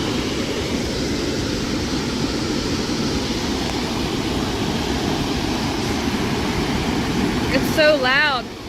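River water rushes over rocks in a steady, loud, broadband roar close by, continuous throughout, with a brief higher-pitched warbling sound near the end.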